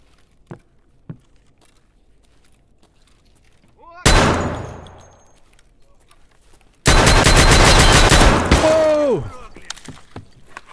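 Desert Eagle .357 Magnum firing in Escape from Tarkov: a single sharp, loud shot that rings out and fades, then after a quiet pause a longer, dense burst of heavy blasts ending in a ringing tail, with no talking.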